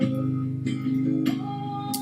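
Acoustic guitar captured by microphone alone with no DI signal, in a home office setting; sustained strummed chords ring with fresh strums about every 0.6 seconds, steady and close.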